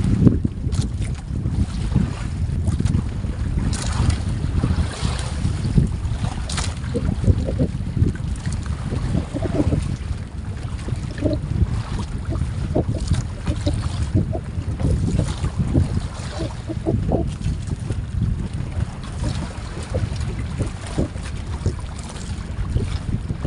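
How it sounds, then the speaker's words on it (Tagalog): Strong wind blusters across the open sea at night, a constant loud roar with gusty buffeting against the microphone and water sloshing beneath, with no voices. "Dito na yung hangin."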